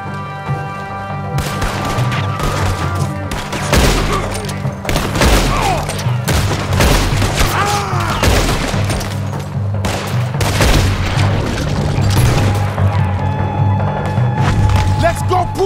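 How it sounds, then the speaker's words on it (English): Repeated cannon blasts and bursts of gunfire from a combat scene in the video game Red Dead Redemption 2, with loud booming thuds and crackling shots throughout, while voices shout over the battle. "There's another set of cannons up ahead!"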